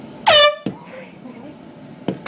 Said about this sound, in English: Cat versus air horn.